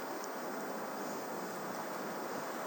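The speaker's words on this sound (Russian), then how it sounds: "Продувает хорошо таким ветром." A continuous storm wind blows on the Vityazevo seaside, a broad hissing rush mixed with distant surf, even and unbroken, with no speech.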